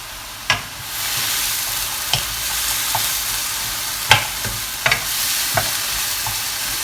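Beef mince frying in a pan for a mini lasagna, with carrot already cooking in it. A steady soft sizzle runs throughout, broken by a handful of sharp scraping stirs spaced a second or two apart.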